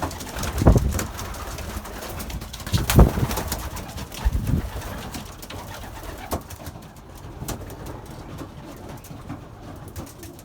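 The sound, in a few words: young Belgian racing pigeons cooing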